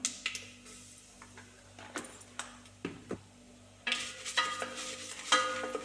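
A masala curry with turmeric and chopped garlic is stirred in a pan over low heat, with a soft sizzle and a series of spoon scrapes and taps against the metal, getting busier toward the end.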